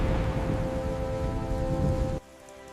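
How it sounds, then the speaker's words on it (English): Steady rain pours over a Jurassic fern plain, a dense, even hiss with faint tonal lines beneath, cutting off abruptly near the end to near quiet. "Rain cools the land and masks scent trails."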